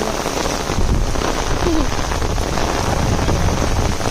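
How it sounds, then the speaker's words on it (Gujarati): Heavy afternoon rain pouring down with strong wind, a dense, loud, unbroken hiss and patter filling the whole moment. "સમજો એટલો વરસાદ છે"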